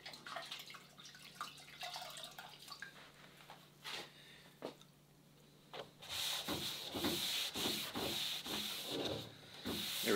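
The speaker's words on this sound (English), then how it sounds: "give the whole thing a good wipe down with clean water after you've done your scrubbing anyway" A wet rag rubbed and wiped across the deck of an International 2.4mR sailboat, soft scrubbing strokes at first, then louder, repeated close-up swipes with a damp, gritty texture.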